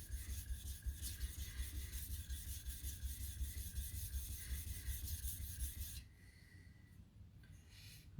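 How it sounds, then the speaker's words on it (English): A knife bevel is ground on a sharpening stone with steady back-and-forth rubbing strokes, close and continuous for about six seconds, then the scraping stops and the scene goes quiet. "You check your bevel with the longitudinal and you really grind with your perpendicular"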